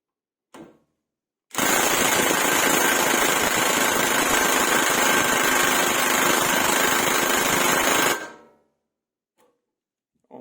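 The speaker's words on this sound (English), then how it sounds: "Tightening this bolt with Milwaukee, then untightening with Parkside, and vice versa." A cordless 1/2 inch impact wrench hammers on a bolt in one loud continuous burst of rapid rattling impacts lasting several seconds.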